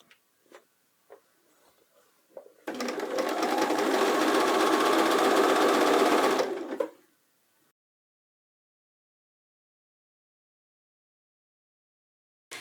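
Sewing machine stitching the leg seam of work pants, a single steady mechanical whir of about four seconds with a fast ticking rhythm, preceded by a few faint clicks and followed by silence.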